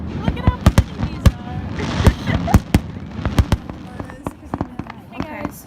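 Fireworks burst over water where boats have gathered, a rapid series of sharp cracks and thumps, some loud and close, others fainter, with crowd voices talking underneath.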